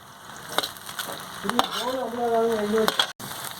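Two large chopped tomatoes fry in a pan with onions for a fish pollichathu, giving a steady sizzle with scattered stirring knocks, while a brief voice-like tonal sound rises over it midway.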